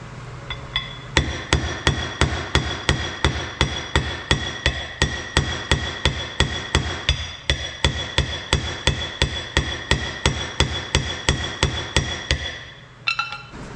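Sharp metallic hammer strikes on a rivet in an OM617-to-OMC sterndrive adapter repeat in a fast, steady rhythm for several seconds, ringing close and loud before stopping.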